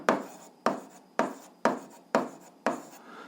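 A pen writing algebra equations by hand on paper, with six evenly spaced scratchy strokes, each starting sharply and trailing off, close and clear with no talking.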